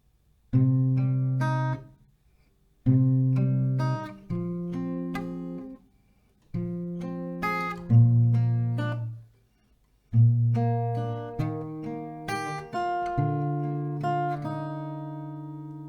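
An acoustic guitar riff played slowly and deliberately, plucked notes ringing in short phrases separated by pauses, close and clean.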